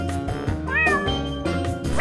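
A cat meows once, close and clear, over steady background sound from a television.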